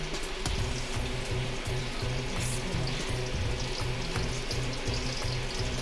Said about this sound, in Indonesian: kita mulai penggorengan dari ayam yang sudah dilumuri oleh tepung